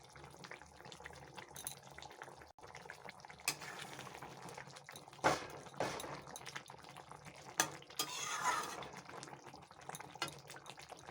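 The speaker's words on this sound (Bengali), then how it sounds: "ঝোল ফুটে উঠেছে" Mustard and eggplant broth for pabda fish curry bubbles and simmers in a pan, a soft continuous sizzle broken by occasional clinks and stirring knocks.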